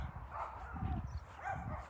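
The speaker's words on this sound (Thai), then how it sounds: "น้องหมาก็จะเห่ากันเยอะหน่อย" Several dogs bark at a home in Watten, Scotland, on a cold morning, two short bursts of barking, fairly faint and somewhat distant.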